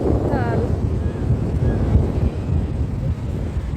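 Steady roar of sea and wind at Puri beach, continuous broadband rush with wind buffeting the microphone and a faint voice in the background.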